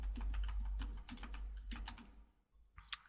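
Rapid key clicks from a computer keyboard used to enter text in Adobe Illustrator, a close, steady run of typing with a brief pause before a few final taps.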